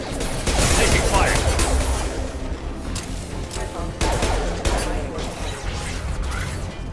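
Gunfire rattles through a Mass Effect 2 Legendary Edition firefight in loud, dense volleys with metallic impacts, easing briefly before renewed bursts.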